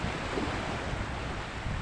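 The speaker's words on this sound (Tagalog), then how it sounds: "malakas ang alon" Steady, dense roar of rough sea surf blended with gusting wind buffeting the microphone, continuous and fairly loud throughout.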